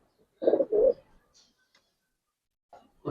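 Bagha pigeons of the Gribaz Military khaki type give two close, soft throaty coos, then fall quiet before a faint note and a third coo starting at the very end.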